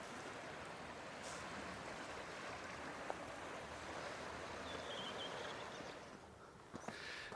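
A natural river runs over boulders in southern Iceland, giving a steady broadband rush of water throughout, close and moderately loud. The sound stays unbroken, with a slight dip near the end.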